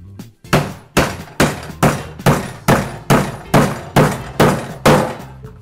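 A hammer taps a nail into wood, about eleven crisp, evenly spaced strikes landing close to the mic, each with a sharp attack and quick decay, with no voices.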